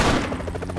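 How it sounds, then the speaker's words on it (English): A big in-game explosion in the action video game Expendabros, a dense burst of blasts and gunfire-like crackle rolling on for under a second, loud and close with no talk over it. "Big explosion!"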